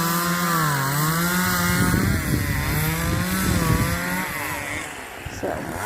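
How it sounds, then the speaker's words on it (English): A chainsaw cuts wood at the Western Canadian Chainsaw Competition at Rig Hand Distillery, its engine droning loud and close with rising and falling pitch as it bites through the timber, running steadily throughout. "the wood's up there to keep them from hitting the metal with the chainsaw"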